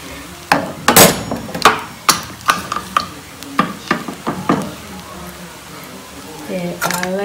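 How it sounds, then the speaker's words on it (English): A spatula strikes a pan while stirring chicken fried rice with soy sauce and spring onions, making a string of sharp, close clacks and scrapes in an uneven rhythm, with a voice speaking toward the end. "I like stirring after I add, I stir."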